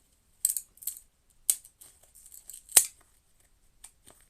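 Cutters snip through dream catcher cord in a handful of sharp, close, crisp clicks spread irregularly over a few seconds, the loudest cut near the end, with quiet gaps between and no talking.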